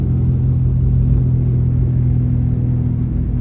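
A struggling motorcycle engine drones in a low, steady, labored rumble, close and continuous with no pauses.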